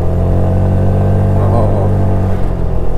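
A motorcycle engine pulls steadily while climbing uphill on a road trip along the Pantura route, giving a loud, continuous low rumble heard close up, with no talking.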